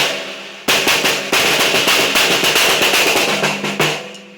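A snare drum struck repeatedly in sharp, loud hits, its snare wires buzzing after each stroke, the hits coming in a quickening irregular run before fading out.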